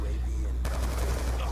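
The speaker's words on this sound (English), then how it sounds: "Oh, stop shooting him in the legs." Gunfire in Call of Duty: Black Ops II, a sudden burst of rapid shots starting partway through and continuing loudly over steady game background noise.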